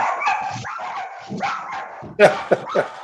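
A dog barks and yips during an online city council committee meeting, sharp close barks breaking in over people talking.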